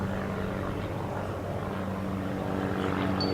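Starduster homebuilt biplane of steel tube, wood and fabric at the Paris Airshow, Le Bourget: a loud, steady propeller-engine drone holds throughout.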